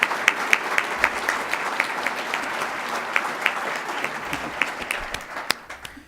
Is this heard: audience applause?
yes